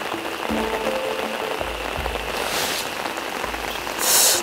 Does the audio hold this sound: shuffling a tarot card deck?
no